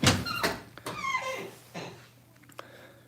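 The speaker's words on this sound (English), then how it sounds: "Dylan, can you pull the door out? Yeah, I can open it." A Dodge Challenger car door is pulled open, giving a close, squeaky creak that slides downward in pitch over about a second, followed by a few faint clicks and knocks.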